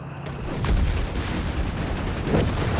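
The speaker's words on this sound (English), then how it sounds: "they're unleashing high explosive shells" High explosive artillery shells landing in Company of Heroes 3, a continuous rumble of booms and blasts overlapping as a dense barrage.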